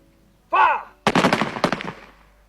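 A World War I soldiers' rifle volley follows a sharp shouted command: a loud, ragged crackle of several close shots fired almost together, then echoing away.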